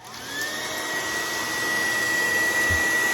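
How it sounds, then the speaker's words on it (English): A blow dryer runs on its highest heat setting to melt ice in a stuck Samsung refrigerator ice maker, a loud steady whine with a high tone that builds slightly and holds. "So how I do this is with a good old-fashioned blow dryer."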